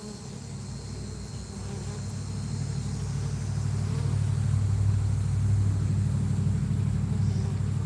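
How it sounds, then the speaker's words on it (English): A swarm of bees on the ground behind beehive colonies, a dense continuous buzzing hum that swells louder over the seconds, with no talking. "Yeah, they're going in. I mean, there's bees going inside for sure."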